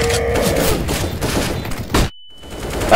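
Rapid gunfire bursts in the video game Counter-Strike: Global Offensive rattle loudly and close for about two seconds, then cut to near silence before a final loud hit.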